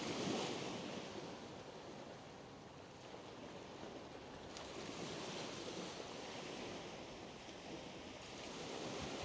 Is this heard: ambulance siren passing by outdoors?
no